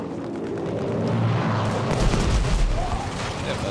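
Bombs exploding in the Battlefield V video game during a Narvik Breakthrough match, a continuous barrage of booms and gunfire swelling louder midway, with voices talking over the blasts.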